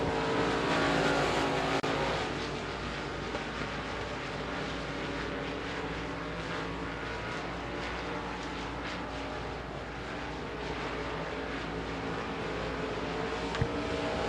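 Limited modified race cars circle the dirt oval at Devils Bowl Speedway, their engines roaring together in a sustained loud pack that swells and eases as they pass, with no talk over it.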